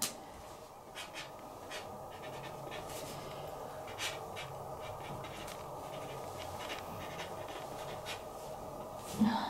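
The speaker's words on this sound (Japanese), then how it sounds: "今回ちょっと筆ペンだけでちょっとこうトーン見せてみようかな。" Brush pen drawing on paper, used to build tone in a quick illustration: a steady, faint scratchy scribbling with brief stroke sounds recurring throughout, close and quiet, with no talk.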